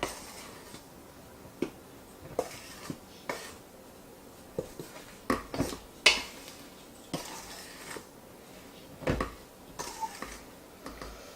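Lemon bar ingredients are mixed in a bowl by hand, producing a run of irregular close clicks and scraping knocks of a utensil against the bowl with short pauses between strokes.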